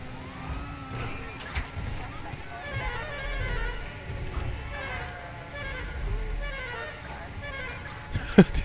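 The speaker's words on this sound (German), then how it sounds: "diese Hupe" A car horn honks amid busy traffic noise and engine rumble in Grand Theft Auto 5 Online, with someone talking excitedly in German over it.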